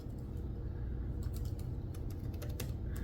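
Typing on the keyboard of a Doogee T30 Pro 11-inch Android 13 tablet produces a quick, irregular run of close, light key clicks over a steady low background hum, with no voices.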